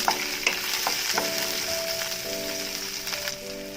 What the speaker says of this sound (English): add green chilies and onion. I have shallots, so I'm using those.